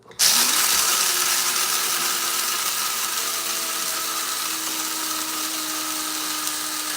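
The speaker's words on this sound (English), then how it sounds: "I use this little Mr. Coffee grinder." A small Mr. Coffee electric grinder grinds coffee beans, a loud, harsh, continuous motor whir that starts abruptly and holds steady for several seconds, close to the listener with no talk.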